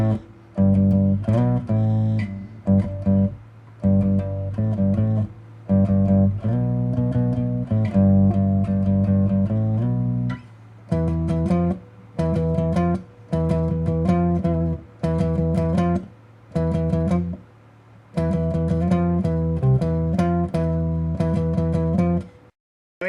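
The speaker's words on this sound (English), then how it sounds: "So the sound of the ULTRABASS sounds like this." Bass guitar played through a Behringer Ultrabass AX4500H amp, a steady run of close, punchy plucked notes with brief gaps, a gritty edge building toward the end.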